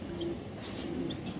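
A pair of high-quality foreign-line pigeons coo softly in two low, drawn-out phrases, close but faint, with a few thin chirps overhead.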